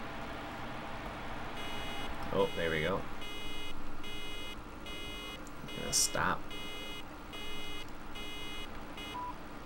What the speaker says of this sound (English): You just listen for the beep, basically.